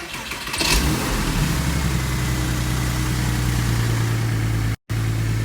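A Porsche Boxster S fires up right after an oil control piston replacement, a short cranking burst catching into a loud, steady idle with a low droning hum that holds close and even, broken only by a split-second dropout.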